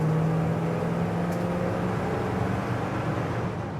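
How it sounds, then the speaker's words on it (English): A 1950s truck with an upgraded drivetrain accelerates, a steady low engine drone and road noise heard from inside the cab, continuous and moderately loud with no talk. "Okay, now we're accelerating."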